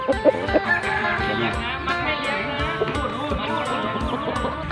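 Chickens clucking continuously near rice fields, with dense overlapping calls from several birds close by and a steady outdoor background.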